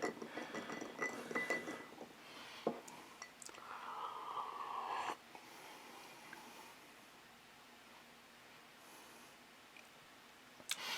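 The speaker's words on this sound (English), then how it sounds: "Finger stir, finger stir, finger stir." Bourbon on ice stirred with a finger in a glass, giving light clinks and chinks of ice against glass for a few seconds. A quieter, near-silent stretch follows.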